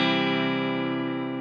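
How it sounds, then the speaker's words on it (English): A distorted guitar run through an amp simulator in FL Studio Mobile rings as one loud, sustained buzzing chord that slowly fades, rich in overtones, with no talk over it. "we got this distortion going on"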